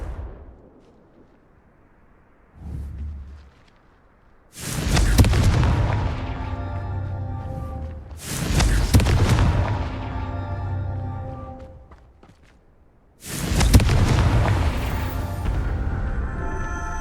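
Three heavy blasts from the Confringo explosive fire spell in the Hogwarts Legacy video game, each a loud booming burst with a ringing, crackling tail, spaced a few seconds apart with a faint thump between.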